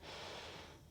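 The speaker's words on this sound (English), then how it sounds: "Take a big breath in" A single deep breath drawn in during a yoga flow, a short airy inhale heard close and faint, under a second long.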